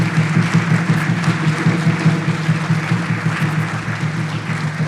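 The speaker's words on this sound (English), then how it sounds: "Let's give him a round of applause." Audience applause in a college lecture hall during a final lecture, loud, close and sustained clapping from many hands with a steady rhythmic texture throughout.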